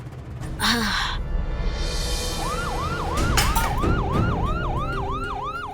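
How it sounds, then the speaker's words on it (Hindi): A wailing emergency siren rises and falls in rapid repeated sweeps amid traffic noise, fairly close and loud. "वो अचानक से सायरन की आवाज सुनी तो हम घबरा गए।"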